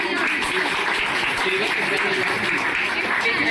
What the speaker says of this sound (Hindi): राहुल स्वर्ण, जोरदार तालियां।